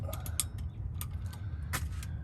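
A socket extension for a 3/8 inch ratchet wrench is fitted into the rear differential fill plug of a Honda Pilot, Ridgeline or Passport, giving a few short close metallic clicks and creaks over a low steady background.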